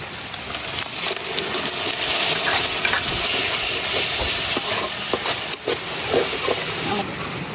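Spice paste hits hot oil with lightly fried onion and garlic in a pan, setting off a loud, dense hiss and sizzle that carries on steadily with some stirring scrapes and no speech.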